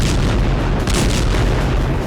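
Explosion from Israeli bombing in Gaza, a continuous loud deep rumbling boom with heavy low roar throughout, no voices.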